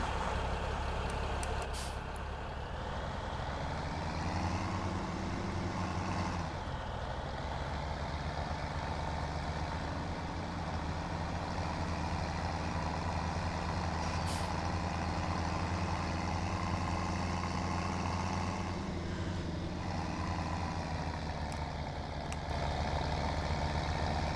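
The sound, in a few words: tractor engine in a farming video game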